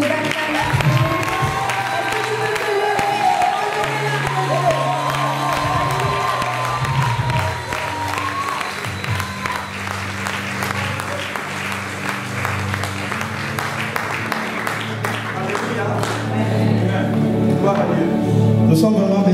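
Sustained loud applause and cheering from a church congregation welcoming a pastor to the stage at a Sunday service, with whoops and shouts over steady clapping throughout.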